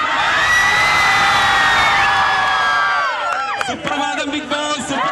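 A crowd gathered in Kodannur to honour Bigg Boss contestant Aneesh cheers and whoops loudly and steadily, with excited shouts and children's voices mixed in and people talking underneath.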